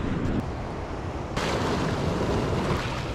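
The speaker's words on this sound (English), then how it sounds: "Finally able to see the waves." Ocean waves breaking at a Baja surf spot, reached on a surf road trip: a steady, broadband wash of surf with some wind, getting louder and fuller about halfway through, with no voices.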